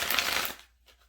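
Tarot or oracle cards shuffled by hand by someone seated on the floor, a quick burst of crisp riffling that breaks off after about half a second and leaves faint rustles.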